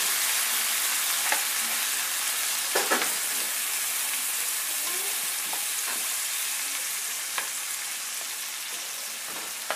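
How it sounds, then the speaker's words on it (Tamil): Ground masala with salt sautéing in a pan for chicken biryani, giving a steady bright frying hiss with occasional soft stirring scrapes, close and continuous. "இது நல்லா வதக்குங்க, இந்த மசாலாவுடைய பச்சை வாசனை போகிற வரைக்கும்"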